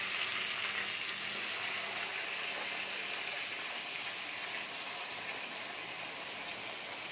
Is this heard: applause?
no